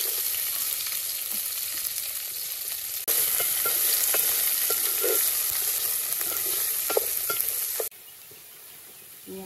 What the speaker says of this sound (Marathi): मी आता ह्याच्यात कांदे टाकून घेते